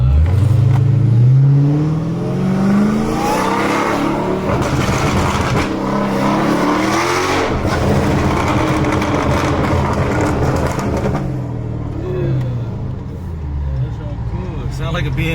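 A Dodge Durango SRT engine revs hard while driving, rising through the gears with a loud, rumbling exhaust heard from inside the cabin, and people talk over it throughout.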